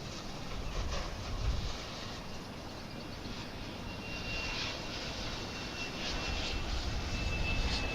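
An American Eagle jet airliner on approach to DFW International Airport, arriving from Waco, Texas, produces a steady, moderately distant engine roar that holds without a break.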